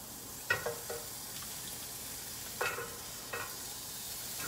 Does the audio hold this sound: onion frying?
yes